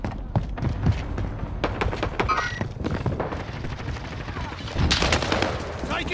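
Gunfire crackles through a video game battle, rapid shots and bursts popping near and far in an irregular stream, with a denser flurry and heavier thumps late on amid game background noise.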